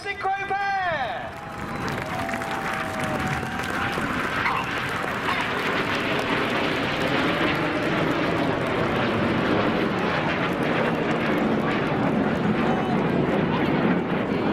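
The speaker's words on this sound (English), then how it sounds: "They're descending back down to 100 feet for their final manoeuvre of this display as they fly the double rolls" Red Arrows synchro pair jets fly low double rolls at the 2015 Blackpool Airshow, a loud, continuous broad roar sweeping past after a brief opening whine, with crowd noise mixed in.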